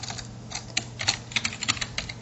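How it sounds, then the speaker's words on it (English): Typing on a computer keyboard, a quick irregular run of crisp key clicks, close and fairly quiet, over a faint steady hum with no talk. "let's type in his information"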